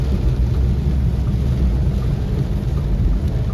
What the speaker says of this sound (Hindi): और अभी वापस से तेज हो गई है बारिश।